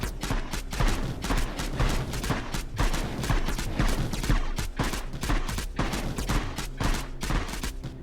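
Turrets in the game Mindustry firing steadily at long range, a dense, continuous stream of rapid popping shots at an even, loud level with no speech.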